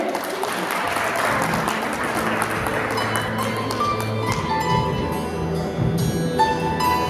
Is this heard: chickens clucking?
no